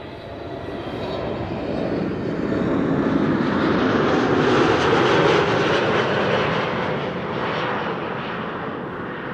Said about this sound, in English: There's definitely propeller sounds coming this way, emanating from the Schiphol Oost area.